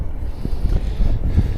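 Gusty outdoor wind buffets the microphone in a low, uneven rumble with soft thumps, steady and close throughout with no voices.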